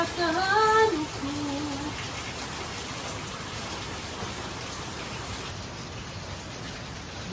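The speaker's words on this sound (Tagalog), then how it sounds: "Walang tigil ng ulan." Heavy, unbroken rain falls during a spell of bad weather, a dense steady hiss that holds at an even level throughout, with a brief tonal sound near the start.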